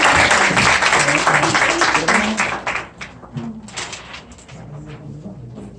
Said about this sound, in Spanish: Un fuerte voto de aplauso, por favor